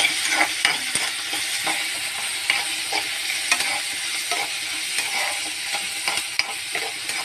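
Green chillies and ginger fry in oil in a pan for a chutney, a close, steady sizzle punctuated by repeated clicks and scrapes of stirring, with no talking.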